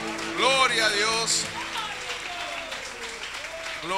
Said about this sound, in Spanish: aplauso al Rey de Reyes